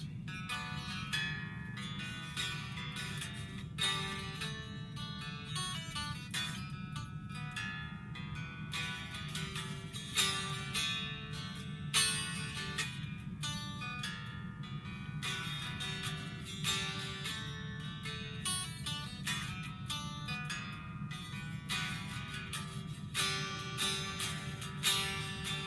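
Acoustic guitar playing the intro of a song, steady strummed chords with a hammer-on figure in an even rhythm, close and moderately loud throughout, with no talking.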